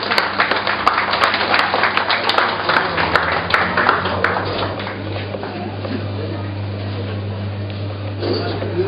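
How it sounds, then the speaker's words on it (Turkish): Scattered hand claps from a small gathering at the opening of a butcher shop, sharp and fairly close for about four seconds, then fading into a steady electrical hum with voices around. "Hadi bir alkış yapın"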